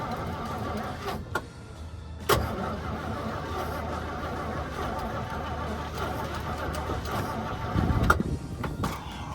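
A 1955 Chevy engine runs steadily after an idle mixture adjustment, a low continuous hum with a brief rev near the end and a few clunks, with faint voices at moments.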